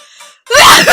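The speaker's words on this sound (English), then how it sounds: "That was a sneeze in anger." A single loud, sharp sneeze bursts out after a brief faint intake of breath, an angry uncovered sneeze indoors in a bedroom during a gaming session.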